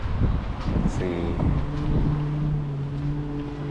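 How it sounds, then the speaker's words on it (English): Strong wind buffets a microphone outdoors in a Honolulu valley neighborhood, a steady broadband roar with gusty swells throughout, alongside a low engine-like hum. "Man, it gets super windy here."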